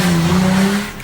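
A car speeds away from police with its tires squealing in a sustained, loud screech over a revving engine, close and unbroken for about a second.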